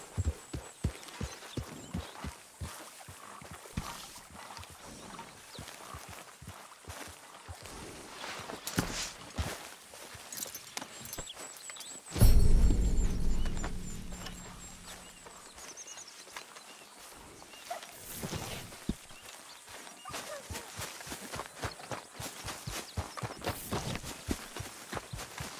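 A horse ridden in Red Dead Redemption 2 clip-clops steadily on hooves for the whole stretch, with a brief louder rumbling burst partway through and faint birds behind.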